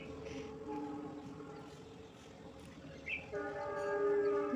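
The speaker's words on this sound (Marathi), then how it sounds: "ट्रेनचा आवाज येतोय." A train rumbles past in the morning, with a steady low rolling drone and tonal horn-like bands that swell louder toward the end. No one speaks.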